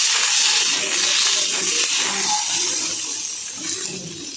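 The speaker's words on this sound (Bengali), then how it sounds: "পাঁচফোড়ন ফোড়ন দিয়ে এবার দিয়ে দেবো আলুটা।" Potatoes drop into hot oil with panch phoron for a fenugreek leaf dish, setting off a loud, close, bright hiss that slowly eases over several seconds, with soft stirring beneath it and no talking.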